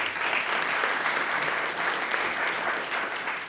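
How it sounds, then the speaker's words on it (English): Applause for neighborhood area commissioners at a press conference opening an early learning center, a steady dense wash of many hands clapping at even loudness throughout. "Let's give them a round of applause too."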